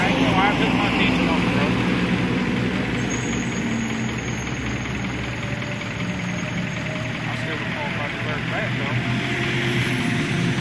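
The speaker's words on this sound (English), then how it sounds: "I can't hear you because that truck." A loud truck rumbles steadily close by on a roadside, its heavy low engine drone filling the whole stretch while people speak beneath it.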